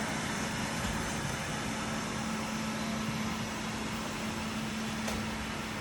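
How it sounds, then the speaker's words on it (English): An iPC floor scrubber's wet vacuum runs steadily, sucking up water from a floor. The drone is continuous and even, with a low motor hum under a broad airy whoosh at constant volume, and no voices. "Even when you pick it up, the vacuum will run for about 10 seconds"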